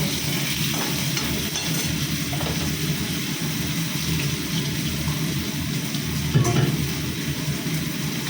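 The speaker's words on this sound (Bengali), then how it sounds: "মাছটা ভাজা হয়ে গেছে" Fish fries in a pan with a dense, constant sizzle that stays loud and even throughout, with a brief clatter near the end and no talking.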